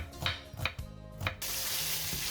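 Liver and chopped onion fry in butter in a pan over medium heat, a few stirring clatters followed by a steady, close sizzle that fills the final second.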